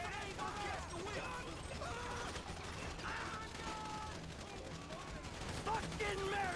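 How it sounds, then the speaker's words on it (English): Gunfire and mechanical clatter in Grand Theft Auto V during a bank robbery mission shootout, rapid bursts and metallic rattles that run continuously under shouted voices. "Shoot up there on the overpass, man."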